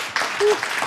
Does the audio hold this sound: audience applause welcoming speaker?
yes